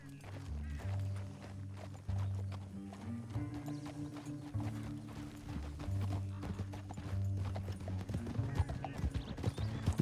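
Horse hooves clip-clop steadily in Red Dead Redemption 2, a rhythmic trot under constant low tonal game music, with an occasional whinny and no voices.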